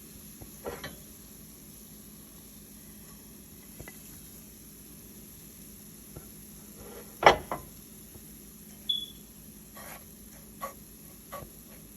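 Spice powders fry quietly in oil with green chillies and curry leaves for a Kerala sardine curry, a faint steady sizzle broken by a few sharp spoon scrapes and taps against the pan.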